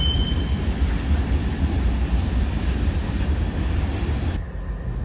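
Freight train M512 approaching on the railroad with six locomotives, a loud continuous low rumble and roar that stays steady before cutting off abruptly near the end.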